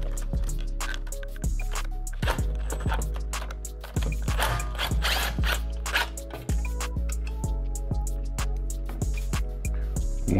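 A hand ratchet clicks in quick, irregular runs while 8 mm gas tank bolts come out of a Lil Rascal 98 mini bike kit, close and fairly loud, with short pauses between bursts.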